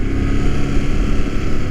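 A 2019 Ducati Monster 821 with its V2 engine and stock exhaust gives a loud, steady, deep rumbling drone, close and continuous, with wind rush mixed in.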